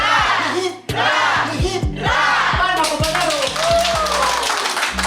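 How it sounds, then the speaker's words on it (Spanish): Rhythmic group clapping at a Poder Judicial ceremony, with sharp, evenly spaced hand claps running steadily beneath loud crowd shouting and cheering voices. "¡Palmas, compañeros!"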